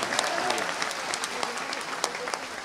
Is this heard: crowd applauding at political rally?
yes